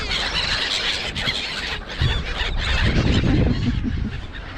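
Gulls and crows outdoors on a bitter cold day, squealing and honking calls overlapping in a busy, fairly loud chorus with no speech.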